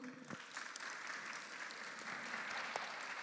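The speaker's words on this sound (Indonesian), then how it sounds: "Kita berikan aplaus dulu." Audience applause at the close of a tuberculosis advocacy symposium session, steady clapping from a room full of people with a few sharper claps standing out, sustained throughout.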